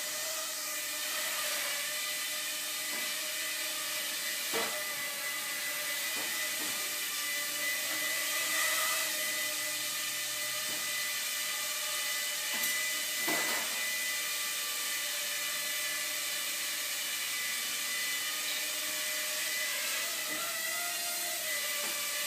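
A Walkera QR Scorpion Y6 hexacopter's motors hold a steady, high-pitched whine at low throttle, close and constant throughout, with a few faint clicks and slight pitch shifts.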